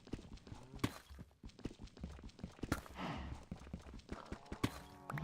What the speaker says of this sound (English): Oh, the cows. I was like, what is making all that pounding noise?